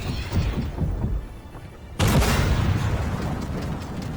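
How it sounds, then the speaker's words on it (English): An AMX 10 RCR tank cannon fires in the video game Armored Warfare, a loud sudden boom cutting in halfway through over steady rumbling battle noise, with the blast's low roar sustaining afterward. "You can see how quickly that 10 AMX 10 RCR can fire"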